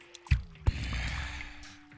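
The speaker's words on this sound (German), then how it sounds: "Oh, ist da wieder Wasser?" Water splashes in a video game, with two quick sloshing impacts followed by a fading wash, fairly faint and close.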